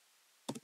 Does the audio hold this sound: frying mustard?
no